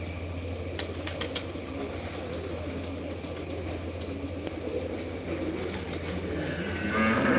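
Large pigeons at a pigeon keeper's loft coo in low repeated murmurs over a steady outdoor hum, with a few sharp clicks and rising background noise toward the end.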